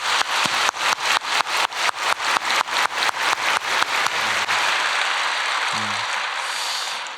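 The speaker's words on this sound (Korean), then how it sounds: "하나님께 영광의 박수 올려드리겠습니다" A church congregation at a Christmas service claps in unison to a steady beat, then breaks into sustained, free applause that gradually fades.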